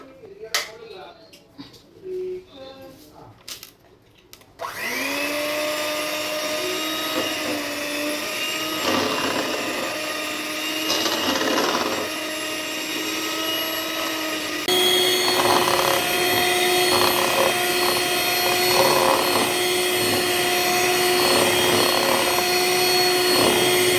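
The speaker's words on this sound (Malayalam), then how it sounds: "ഇനി നമുക്ക് ക്രീം ബീറ്റ് ചെയ്യാം" Electric beater whipping cream for a cake, a steady loud motor whine with strong harmonic tones running continuously after the first few seconds, the pitch shifting slightly partway through; brief speech is heard at the start before the motor starts.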